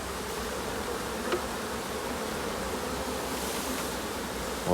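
A dense, continuous buzz of many honeybees fills a hive during the recovery of a swarm in Provence, steady and close with no pauses.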